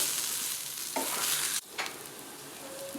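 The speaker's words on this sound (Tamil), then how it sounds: "நல்லா கலந்து விடுங்க. இந்த மசாலா இதோட மிக்ஸ் ஆகணும்." Masala stirred into brinjal frying in a pan: a loud, dense sizzle with spoon scrapes and clatters, a sudden brief drop as the pan is moved, then the crackling frying resumes.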